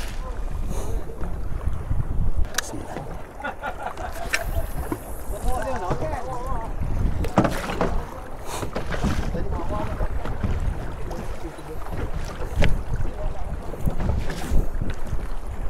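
Strong wind at sea buffets a fishing boat with broad, gusting roar and rumbling microphone noise, and someone talks over it.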